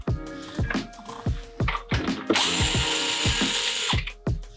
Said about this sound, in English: there's 4 screws up here that I need to take off to get to that rail